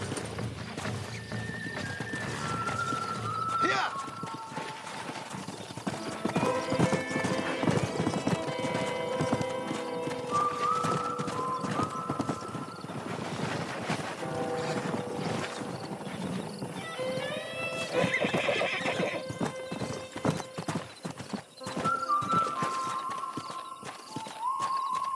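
Horse hooves clip-clop steadily through a wild-horse capture with a lasso in the video game Red Dead Redemption, with several loud neighs and whinnies breaking in over the galloping across the whole stretch.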